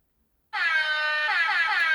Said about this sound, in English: I wish I can play an air horn all night